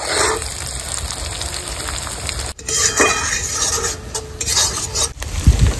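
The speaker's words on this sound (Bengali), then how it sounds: "এবার দিয়ে দেবো ম্যারিনেট করে রাখা মাংসটা।" Marinated chicken going into a pan of fried spices for a chicken curry, with steady close sizzling and frying plus the scrape and clink of a spoon stirring against the pan; no talking.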